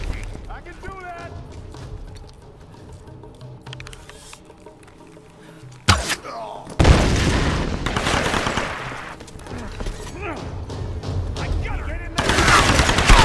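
Rapid gunfire in the Tomb Raider Definitive Edition factory level: bursts of automatic shots crackle under a tense game soundtrack and shouting, with loud volleys erupting in the second half.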